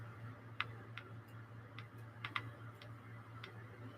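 A radiation detector near an americium source ticks sparsely and irregularly, about nine faint clicks over a steady low mains hum, with no one talking.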